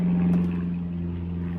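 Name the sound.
airplanes flying overhead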